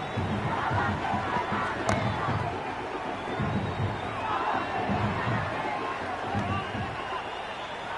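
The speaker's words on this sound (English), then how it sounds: "There's an almost tangible fervour throughout the crowd at the moment." Crowd at a virtual India vs Pakistan T20 cricket match roaring continuously, a dense, loud swell of cheering and shouting with no break.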